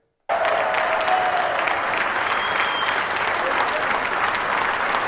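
A large crowd breaks into loud applause after a brief silence, dense clapping mixed with scattered cheers that stays full and sustained to the end.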